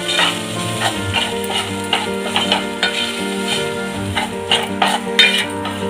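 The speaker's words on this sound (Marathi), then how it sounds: "पुन्हा ही छान परतून घ्यायचं." Sheng batata bhaji sautéing in a pan with Malvani masala and coriander, giving a loud close sizzle broken by regular scraping and stirring strokes of a spoon against the pan, with no voices.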